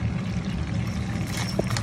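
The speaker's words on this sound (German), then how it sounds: "Jetzt geben wir etwas Sahne rein" Cream is poured into a pan of meat juices for a sauce, a brief, close liquid splash and trickle over a low background rumble.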